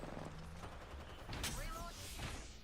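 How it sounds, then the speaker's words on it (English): Enemies in a video game fire guns in rapid bursts that rattle loudly over a busy game soundscape, with a voice talking across them. "The enemies are shooting at me."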